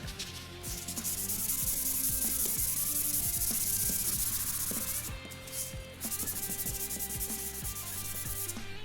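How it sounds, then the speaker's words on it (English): A Porsche 911 (996.2) headlight wet-sanded with 3000 grit sandpaper, giving repeated close rubbing strokes with a soft rhythmic scrape and a short pause midway, no talk. "This is 3000 grit sandpaper."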